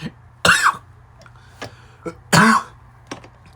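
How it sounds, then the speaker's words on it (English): Two harsh, forceful coughs close to the mic, separated by a pause, with a few smaller throat sounds and breaths in between. "I'm sorry if I'm coughing like that"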